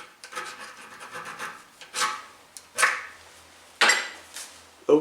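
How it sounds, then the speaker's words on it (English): A hand file rasping along the sharp edges of a metal wiper shaft part on a Mercedes 230 GE, in several separate scraping strokes with pauses between, close and clear with no talking. "And again I use the file so that the front is also free of sharp edges."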